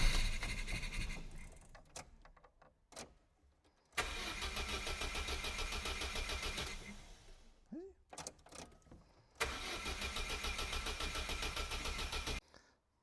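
Opel Corsa B engine cranking and starting twice after a battery reconnect, each start settling into a loud, steady idle for a few seconds before cutting off, with brief clunks and quiet gaps between.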